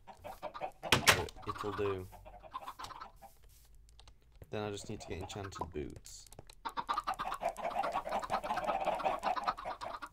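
Chickens in Minecraft cluck in short bursts over the clatter of fast computer keyboard typing, while someone talks through parts of the clip.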